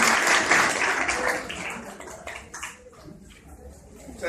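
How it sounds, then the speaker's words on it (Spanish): Audience applause for a lecturer at a customs-regime conference, a broad wash of clapping that starts loud and thins out toward the end. "le brindemos un voto de aplauso al doctor Tercio."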